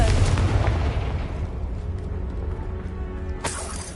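Confringo blasting spell in Hogwarts Legacy bursting in a heavy, booming explosion that rumbles and decays, followed by a sharp crackling flare near the end.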